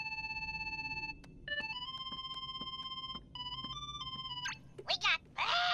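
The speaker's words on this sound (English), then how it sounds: "somebody's calling us on the gummy phone" Gummi phone ringing in Kingdom Hearts 3, a bright electronic melodic ring with steady tones that shifts pitch and then breaks into a burst of chirpy sound effects at the end, over a low game background.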